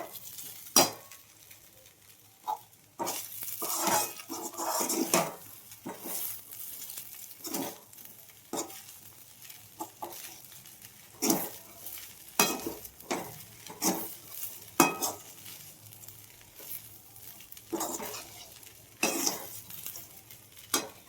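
Poha is stirred and cooked in a pan with repeated spatula scrapes and clinks in an irregular rhythm over a faint sizzle. The strokes are close and fairly loud.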